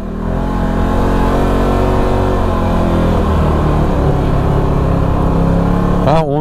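A Can-Am Maverick Sport XXC side-by-side engine runs on a rough trail, a steady loud droning hum with layered harmonics that shifts slightly in pitch, ending with a brief rising rev.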